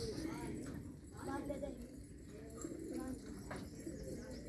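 Pigeons coo repeatedly at a village house, soft rolling calls close by over a steady low background murmur, with a voice speaking faintly at times.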